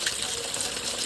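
Water gushing from the Sasar Dhara spring spout in Butwal, a brief steady splashing rush, close and continuous with no voices.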